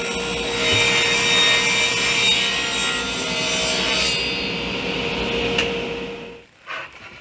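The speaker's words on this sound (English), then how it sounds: "I'm going to start by cutting some plywood on the table saw at 14 inches wide." A table saw rips through plywood in a steady, loud cut lasting about six seconds, then winds down and falls quiet near the end with no talking.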